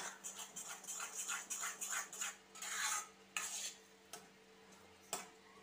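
Ripe jackfruit is stirred and sautéed in a pan, with a utensil scraping and clinking against the metal in quick irregular strokes over a faint sizzle, close and quiet, no voices.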